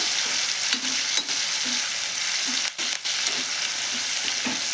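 Cauliflower pieces fry in hot oil, giving a dense, even sizzling hiss close by, with brief dips and soft stirring clinks of a utensil against the pan.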